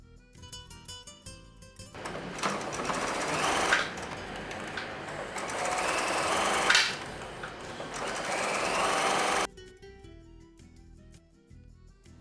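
A sewing machine stitches a fabric face mask in two fast whirring runs, loud and close, separated by a short pause, then stops, leaving quiet background music.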